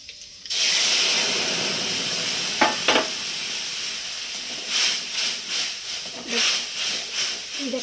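Potatoes fry in a spice mixture with nigella and cumin, starting with a sudden loud sizzle and hiss that carries on steadily, broken by a few stirring clatters and bursts of louder spattering.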